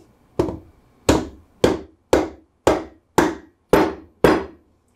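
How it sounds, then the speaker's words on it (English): A dead blow hammer strikes eight firm, evenly spaced blows while assembling a Levin accessory precision machine spindle. Each thud is loud and close, with a short decay and silence between hits. "And this is where a dead blow hammer pays off."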